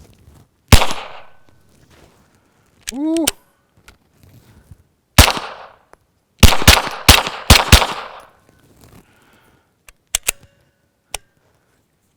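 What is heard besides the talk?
suppressed gunfire, Gemtech Lunar 9, Remington UMC subsonic ammo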